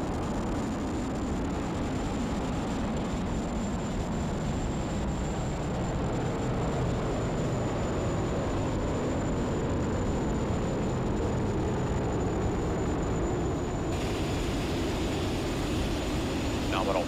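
SpaceX Falcon 9 rocket engines roar during the Crew 8 liftoff as a dense, unbroken broadband rumble that holds steady for the whole stretch, with a voice faintly present underneath.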